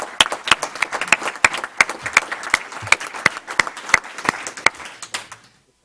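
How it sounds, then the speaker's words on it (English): Audience applause at a school board meeting, honoring a principal, her staff and students: a dense burst of sharp claps from a room full of people, holding steady for about five seconds before tapering off, no voices over it. "Let's give Principal Long, her staff, and her students and those incredible academic achievement gains another round of applause."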